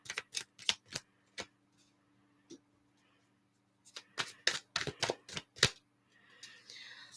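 Tarot cards are shuffled by hand in short crisp bursts: a quick run of snapping riffles, a pause with a couple of stray flicks, then another dense cluster of sharp card slaps, close and clear over a faint steady hum.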